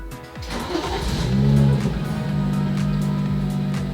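A BMW M235i with the N55 engine cranks and fires up close by, the revs flaring briefly before settling into a steady, even idle that runs to the end.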